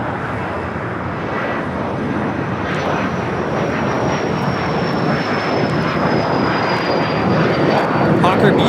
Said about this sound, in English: Hawker Beechcraft 400A taking off to Salt Lake City.